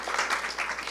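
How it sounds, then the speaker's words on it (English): A room full of people applauds award winners at a business awards ceremony, a short dense burst of clapping close by. "I'd like to do a round of applause already, if you don't mind."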